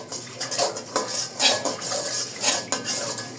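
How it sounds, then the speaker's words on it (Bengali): Semolina is dry-fried in a pan while a utensil scrapes and stirs it, producing rhythmic metallic scraping strokes about every half second with a soft rustle beneath. "আমি সুজিটা ভেজে নেই।"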